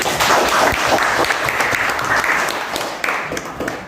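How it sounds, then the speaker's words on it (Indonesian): A classroom audience at a lesson on persuasive speeches bursts into loud, dense applause for a student, strongest at first, then easing slightly over four seconds. "berikan tepuk tangan buat Rizky"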